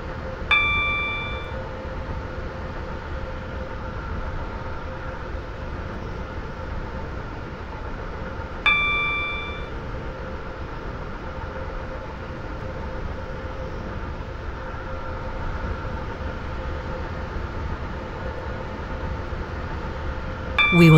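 An Airlink train pulling into Airport Terminal 1 gives a steady, even rolling rumble throughout, with two bright electronic chime tones ringing out early and again near the middle.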